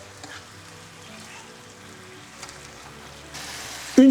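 Meat turned in a pan as its juices reduce for Japanese ramen, giving a soft, steady sizzle and gentle frying crackle close by, with a brief louder clatter at the end.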